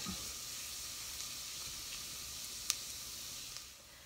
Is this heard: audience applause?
no